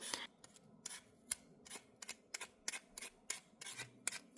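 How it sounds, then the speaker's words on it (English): Peeler scraping a potato in quick repeated strokes, each a short crisp rasp, about a dozen in a regular rhythm, close and fairly quiet with no talking. "I'm going to start by peeling the potato."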